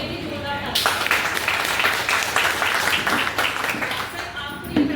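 Applause breaks out from an audience at a company meeting, a dense clapping that swells after a brief lead-in and carries steadily for several seconds with voices mixed in.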